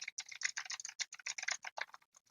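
Rapid, uneven clatter of keys on a computer keyboard, close and fairly quiet, typed in quick bursts with short pauses between.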